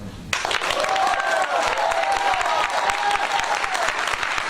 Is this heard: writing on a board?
no